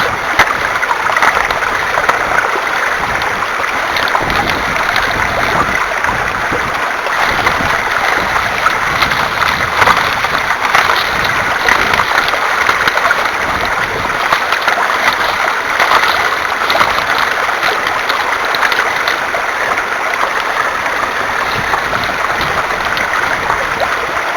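A Clear Gold Model 2125 HDP hand dredge pump works in water, giving a steady, fairly loud wash of churning, sloshing water that continues without pause.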